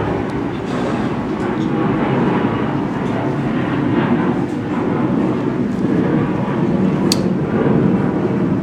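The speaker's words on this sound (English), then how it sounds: "I'm going to wait for the plane to go by." An airplane passes overhead at an outdoor Memorial Day gathering, a continuous loud low rumbling drone that holds steady throughout.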